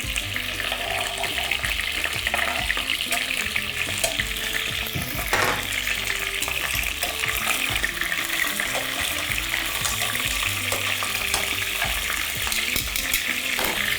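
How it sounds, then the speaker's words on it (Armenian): Celery stalks and vegetables frying in a soup pot, a steady close sizzle with stirring scrapes and a brief clatter midway, continuous throughout with no talk. "Տապակում ենք նաև նեխուրի ցողունը"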